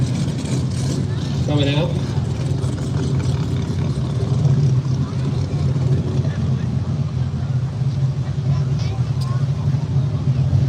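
A Chevy El Camino and a Chevy Camaro wait at an arm-drop drag race, their engines rumbling steadily and low beneath a live announcer talking over a loudspeaker.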